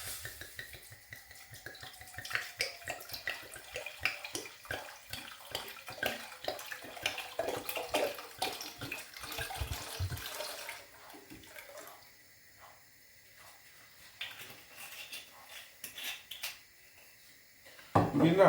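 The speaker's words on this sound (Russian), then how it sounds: "Сейчас мы добавляем туда наше вино." Wine is poured into a pot for dyeing Easter eggs with onion skins, a close, gurgling stream of liquid for several seconds that then thins into quieter trickles and small knocks.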